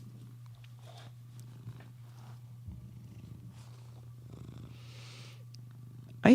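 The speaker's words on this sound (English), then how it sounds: "Do you have somebody purring in there? I got a cat by the mic here." A cat right beside a microphone purrs with a steady low rumble throughout, close and continuous, with faint soft sounds layered over it.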